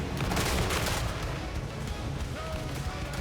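A massed gunfire volley in Total War: Warhammer 3, a dense, continuous roar of overlapping shots and rumbling blasts that fades slightly toward the end.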